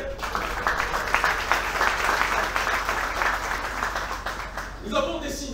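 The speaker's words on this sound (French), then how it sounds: "je vous demande d'applaudir s'il vous plaît" Audience applause at a public gathering in Haiti, dense clapping at moderate loudness that continues steadily, then thins near the end as a voice begins speaking.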